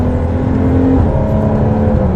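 A Porsche Cayman 981 engine blips and revs through quick downshifts, a loud, close, continuous engine drone whose pitch steps and shifts midway as gears drop.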